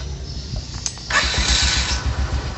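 A motorcycle engine is started and settles into running, a close low rumbling that swells after a brief crank-like opening and holds steady to the end, with no talking.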